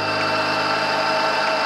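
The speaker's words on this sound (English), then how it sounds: "quick deburr." Quick deburring of a metal part in a workshop, a steady high whirring tool sound at close range with no pauses, over in under two seconds.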